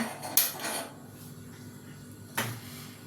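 A metal kadai pan is set down on a gas stove with two sharp clanks, the first followed by a short rattle and the second coming about two seconds later after a quiet pause.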